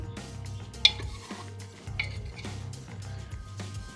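Pressure-cooked dried yellow peas for Bengali ghugni get stirred in the pot, a ladle scraping and clinking against the metal in soft strokes with one sharper clink, close and moderately quiet, no voices.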